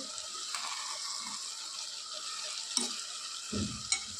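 Tomato and eggplant gravy for vangi bath sizzles softly in a pan while a spoon stirs it, with a few louder scraping knocks against the pan near the end.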